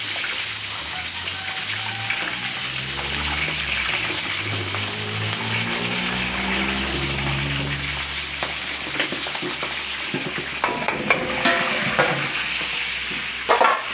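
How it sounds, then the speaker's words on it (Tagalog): A spoon stirs pieces of food cooking in a hot pan for a Filipino-style dish, giving steady sizzling and frying with irregular scraping and clattering strokes, louder bumps near the end, and no voices. "At haluin po natin itong mga nakasalang para mapantay natin ang pagpapalambot."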